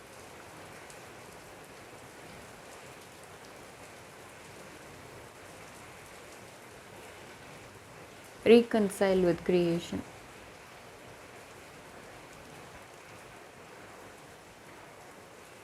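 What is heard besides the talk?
rain falling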